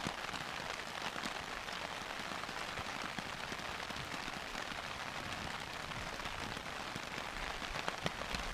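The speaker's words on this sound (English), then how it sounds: "enjoying the sound of rain pitter patter hitting my tarp," Rain patters steadily on a camping tarp in winter, a dense, even hiss of countless drops with occasional sharper taps, close and soft, with no voices.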